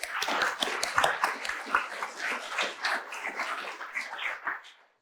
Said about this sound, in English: So much clapping.